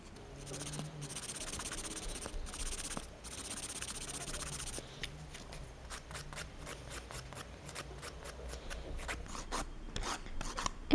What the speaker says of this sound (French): on va commencer à limer tout le dessus